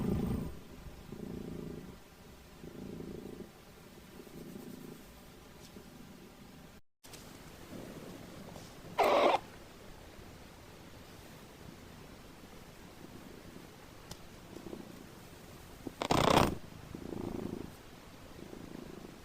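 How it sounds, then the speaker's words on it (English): High-pitched purring of a fictional creature, the Elwich, heard as soft rhythmic purr pulses over a hissy background, followed later by a couple of brief brighter squeaky bursts. "these creatures purr in high pitches"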